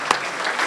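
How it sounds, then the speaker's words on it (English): A short burst of applause from the audience at a Kiwanis club meeting, a brief clatter of clapping hands with no talk over it. "So let's give him a round of applause, Henry Lawrence."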